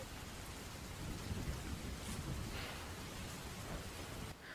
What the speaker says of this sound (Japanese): でもこの雨の音はいいね、落ち着くよね